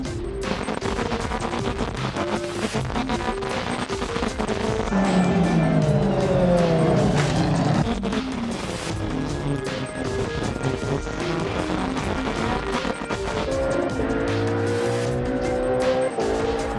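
Race cars in a circuit race, one a BMW Sports Trophy Team Brazil car and another Sebastian Loeb Racing's number 9, spin and brake hard into a corner. Loud engines sweep up and down with squealing tires, and there is no talk.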